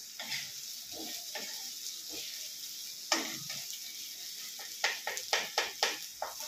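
Ginger paste and green chili dropped into a hot pan for a Bengali chhanar bora dalna, giving a close hissing sizzle with stirring scrapes and a run of sharp rhythmic clacks near the end, no talking.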